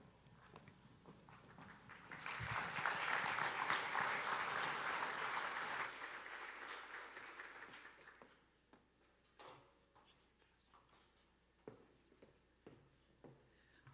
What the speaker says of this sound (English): can we give another round of applause for Mayor Ginther